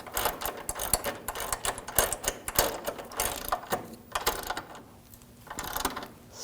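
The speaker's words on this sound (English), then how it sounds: "I'm going to tighten this down with a nut and bolt." A nut and bolt are tightened on the lower rearward control arm of a 2006-2009 Audi S4 Convertible, a rapid ratcheting click-click-click in quick bursts with short pauses, close and fairly loud, with no talking.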